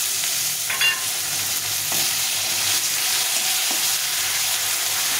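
A medium-sized tomato fries in a pan with a loud, continuous close-up sizzle and a few faint stirring scrapes.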